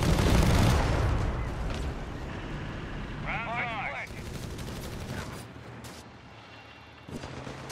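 Pack howitzer artillery pounding a Kanona in a Company of Heroes 3 1v1 match, booming shots mixed with dense gunfire and battle noise throughout, with a voice talking over it.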